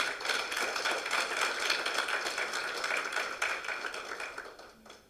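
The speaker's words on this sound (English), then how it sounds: "May we please give the organizers, just before we start, a big round of applause for organizing this event." Conference audience at the 12th Annual ANAPRI Stakeholder Conference applauds the event organizers, a steady dense patter of clapping that fades out near the end.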